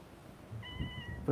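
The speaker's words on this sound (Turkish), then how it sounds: "Yanımda çok güzel bir kedi geldi şu anda." A single short cat meow from a hungry cat, faint and close, rising briefly over quiet outdoor background noise at Evrenseki beach, Manavgat, Antalya.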